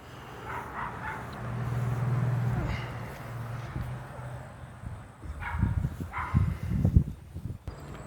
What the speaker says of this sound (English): You're gonna still hear the dog bark in the background.